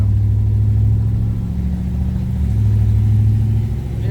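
A 1967 Chevrolet Impala with a Turbo 350 automatic transmission runs loud and close, its engine holding a steady low rumble that swells and eases slightly as it revs, with no talking.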